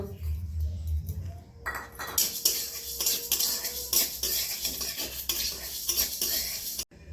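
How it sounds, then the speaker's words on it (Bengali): Dry kalai dal (black gram) is stirred in a hot pan, giving a steady, close dry rattle and scrape of grains and spoon against metal, with no talking. "আমি শুকনো কড়াই ডালটাকে একটু হালকা করে নাড়াচাড়া করে নেব"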